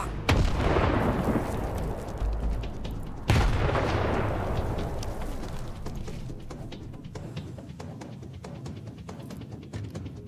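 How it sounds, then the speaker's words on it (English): A grenade blows up in the video game Stalker 2 with a heavy, close blast at the start. A second loud boom follows a few seconds later, and both fade into a long rumbling, crackling tail. "Grenade."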